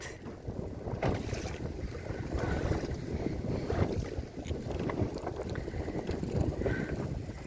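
A Beneteau Oceanis 323 sailboat crossing the finish of a regatta, heard as steady wind buffeting and water rushing along the hull, continuous and fairly close, with no talk.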